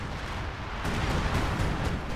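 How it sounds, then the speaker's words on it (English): Artillery from a time-on-target strike pounds a capture point in a strategy video game, a steady dense rumble of overlapping blasts and crackling impacts, with no clear gaps between shells. "Time on target artillery gets dropped on the capture circle to try and pressure these forces out of it."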